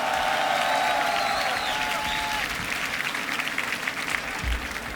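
Crowd at a beatbox battle applauding and cheering steadily for the full stretch, a dense continuous wash of clapping with a faint whistle early on, no clear speech.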